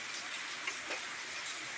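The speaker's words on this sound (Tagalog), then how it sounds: "So mukhang lumakas na yung ulan, guys." Heavy rain pours down steadily in a dense, even hiss, with a faint tick or two of drops on a surface and no voices.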